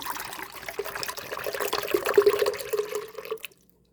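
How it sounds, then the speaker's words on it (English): Canned pineapple juice poured into a bowl of punch: a steady splashing trickle of liquid that grows slightly louder, then stops abruptly, leaving near silence. "The first thing I'll be adding is a can of pineapple juice."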